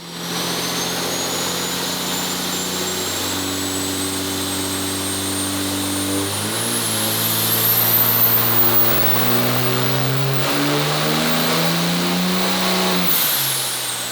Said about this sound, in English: we got Nick Morris's truck on the dyno